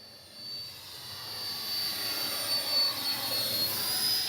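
A small E-flite 64mm Viper electric ducted-fan RC jet flies overhead with a steady, high, sustained whine over a constant airy rush. It swells slightly louder as it passes at moderate distance.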